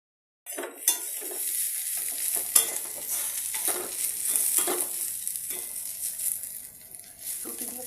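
Onions and potatoes frying in a pan, with a steady loud sizzle and repeated spatula stirring and scraping against the metal, close by.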